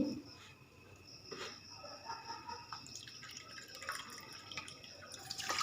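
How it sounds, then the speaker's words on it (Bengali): Two cups of water are poured onto 300 grams of sugar in a pan for a thin sugar syrup, a faint close trickle with scattered drips. "তার সাথে দিয়ে দিচ্ছি দু কাপ জল"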